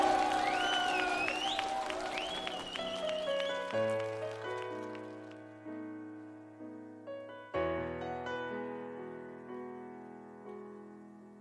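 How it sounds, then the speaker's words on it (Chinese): An audience applauds at a televised singing competition. The clapping is dense at first, then fades as sustained musical notes take over. "掌声送给小昭，期待你的精彩表现。"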